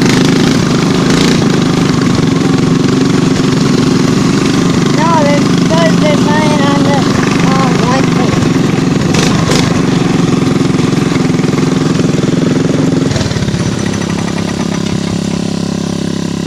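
A four-wheeler on a trail ride, suspected of worn piston rings, runs with a steady, loud, close engine drone for the whole stretch, a slight shift near the end, and muffled voices faintly under it.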